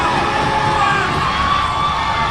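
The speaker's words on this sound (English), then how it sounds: "The crowd has erupted." Football crowd erupts in cheers after a goal at an FA Cup final between Tigers FC and 345 FC: a loud, sustained roar of shouting and whooping fans, continuous and close-sounding throughout.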